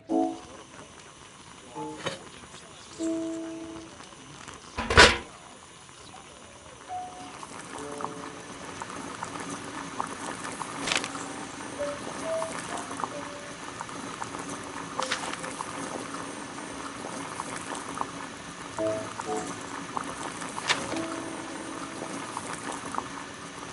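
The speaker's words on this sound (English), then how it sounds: "Boil water in kettle." Water heating in a kettle over a gas burner in a Sherlock Holmes adventure game, a steady bubbling hiss that builds and holds after a few soft clinks and a sharp knock near the start.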